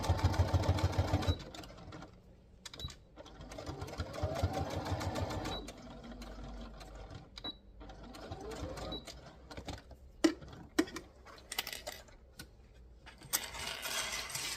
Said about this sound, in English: I'm gonna sew that last straight